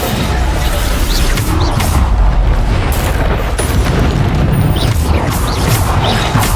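Bombarda blasting spells explode during combat in Hogwarts Legacy, a run of loud, close booms and crashing bursts layered over a continuous roaring din, with several sharp impacts spread through the stretch.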